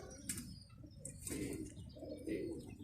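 Homing pigeons back at their loft after a night away give low soft coos and a few quick wingbeat flutters, quiet and near, with no one talking.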